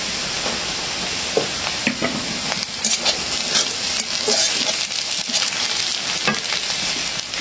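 Green chillies drop into garlic and onion frying in oil, raising a steady, loud sizzle that runs throughout with occasional stirring scrapes.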